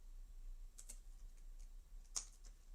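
A few sparse, quiet keyboard key clicks tap out over a faint low hum, with soft gaps between them.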